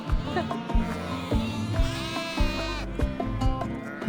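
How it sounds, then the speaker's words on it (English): Many young lambs bleating for their mothers indoors in an Anatolian village, overlapping high and low cries, close by and loud, with soft thumps and shuffling beneath. "we're just in the middle of a lot of noise as little lambs are trying to find their mothers"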